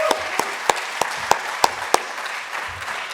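Audience applause for award nominees at a tourism venue awards ceremony: a steady wash of clapping from a sizeable crowd, with several sharper individual claps standing out in a loose rhythm, sustained throughout with no voices.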